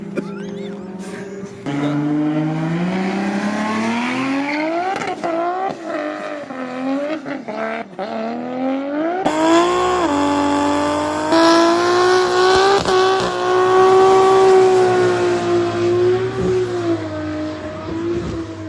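A manual Toyota Supra on street tires revs hard with wheelspin, a loud sustained engine howl rising and falling in pitch through gear changes, with tire squeal over the top.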